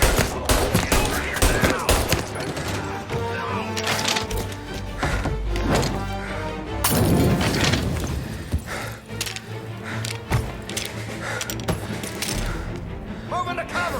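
Gunfire in the video game Mafia Definitive Edition, with bursts and volleys of shots layered over dense game sound and music throughout, loud and continuous.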